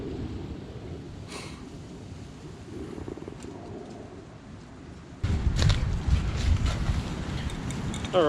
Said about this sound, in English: with the cold front coming through, the wind's picking up